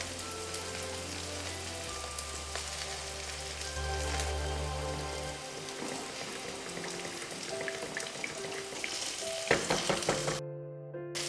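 Garam masala tempered in hot ghee for an okra curry crackles and fizzes in a steady, rain-like sizzle with a foamy bubbling texture, close by and continuous.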